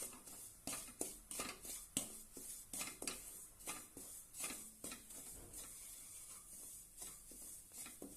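Semolina dry-roasting alongside finger millet flour in a pan is stirred with a spoon, giving quiet, rhythmic scraping strokes close by with a faint gritty rustle and no voices.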